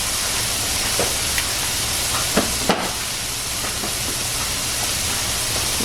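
Turkey burger patties sizzle in a pan, a steady broadband hiss filling the whole stretch, with a few brief clicks and pops rising above it, close and continuous with no talking.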